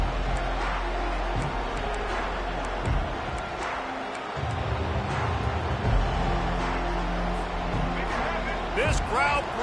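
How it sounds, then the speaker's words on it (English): A football stadium crowd roars loudly and steadily throughout, a dense wash of cheering and noise with a few louder swells, under continuous commentary. "This crowd bringing the energy and noise early."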